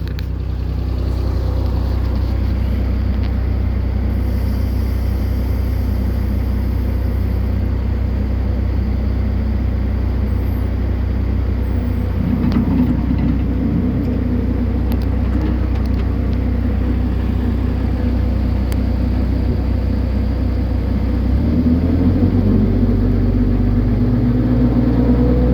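Avant 530 compact loader driving a hydraulic bush cutter runs as a steady, loud low engine rumble with a whirring hydraulic tone, roughening and rising in pitch near the end as the revs change.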